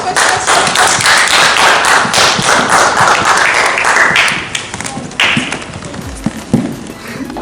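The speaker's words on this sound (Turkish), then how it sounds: "Herkes kendisini alkışlasın." A room of acting-workshop participants applauds themselves, a dense burst of clapping from many hands that runs loud and steady for about four seconds, then thins into scattered claps and a few stray taps.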